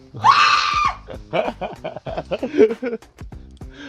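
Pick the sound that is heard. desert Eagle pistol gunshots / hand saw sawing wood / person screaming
person screaming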